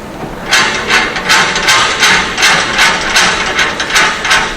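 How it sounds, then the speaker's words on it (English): Screws on the reaction frame of a CBR (California Bearing Ratio) soil test apparatus are turned, producing a loud, steady series of rhythmic ratcheting clicks close up, about two per second, with no voices. "it is now time to adjust the screws such that the position of the reaction frame can be adjusted accordingly"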